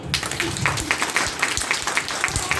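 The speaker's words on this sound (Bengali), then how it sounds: "বাচ্চাদের জন্য অনেক জোরে একটা হাততালি।" An audience at a Rabindra-Nazrul Jayanti cultural event applauds the children. The clapping is steady and moderately loud, with rhythmic beats standing out from the crowd, and a faint voice sits underneath.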